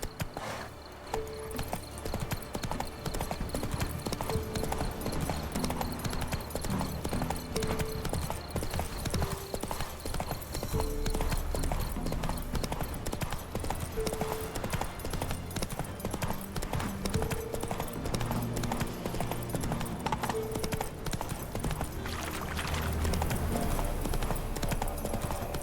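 Horse galloping in The Witcher 3 video game: rapid rhythmic hoof clip-clops run throughout over a steady loud game soundscape with faint music.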